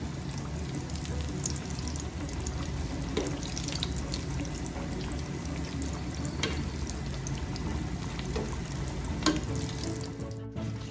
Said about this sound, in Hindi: हल्की आंच पे ही हमने जो है इसको फ्राई करना है।